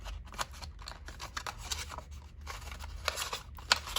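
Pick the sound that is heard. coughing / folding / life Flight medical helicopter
folding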